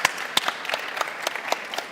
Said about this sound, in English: Please give a round of applause to our panelists.